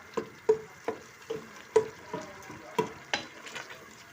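Mutton mince fries in a pot with tomato paste, stirred in a regular rhythm of about ten distinct scraping strokes over a low, steady sizzle, with no voices.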